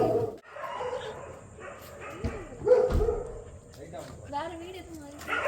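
A dog barks and yips in short, close bursts scattered through the stretch, mixed in with people talking nearby.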